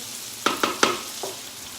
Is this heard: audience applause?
no